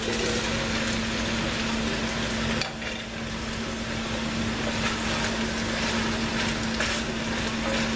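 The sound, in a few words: zucchini added to a hot pan, sizzling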